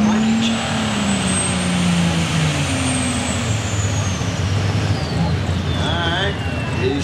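A pulling truck's engine roars loud and close during a truck and tractor pull at Front Royal, its pitch sweeping up and down as it strains, while an announcer talks over it.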